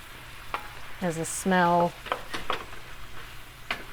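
Apples with cinnamon fry in a pan with a steady close sizzle, and a voice speaks briefly over it.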